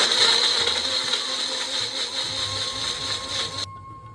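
Electric kitchen grinder whirring steadily as it blends strained kasuri methi with water into a paste, a loud continuous motor drone that cuts off abruptly near the end.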